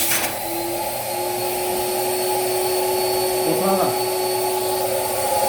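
A DSZERO-A carpet and mattress cleaner runs its single suction motor in a steady, loud, close drone that holds unbroken throughout, with a brief shift in tone near the end.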